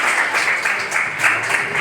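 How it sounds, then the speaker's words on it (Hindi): Loud, sustained applause from an audience at a children's poetry gathering at a school in Kanpur, many hands clapping together in a dense, continuous burst with small swells. "एक बार जोरदार तालियां होनी चाहिए"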